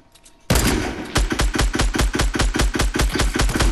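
Rapid bursts of gunfire in a first-person shooter video game, loud and close, firing in a quick steady rhythm after a short quiet lead-in, with no talk over it.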